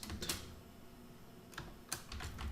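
Code is typed on a computer keyboard, faint, scattered key clicks with short gaps, close by and without talk.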